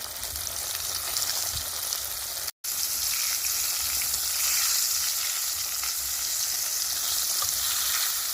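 Tinned mackerel frying in a pan for Jamaican cooking, a steady close sizzle and crackle of hot oil that runs throughout, broken by one brief dropout.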